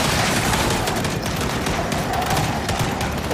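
Heavy weapon gunfire in the video game Gears 5, a dense continuous burst of rapid shots that stays loud and unbroken throughout.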